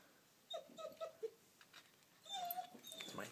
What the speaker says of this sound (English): My dog outside.